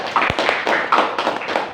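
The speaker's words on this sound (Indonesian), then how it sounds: "kita berikan tepuk tangan untuk Nizar." A small classroom group claps for a student, a short run of sharp, close hand claps in a loose, uneven rhythm, with no talking over them.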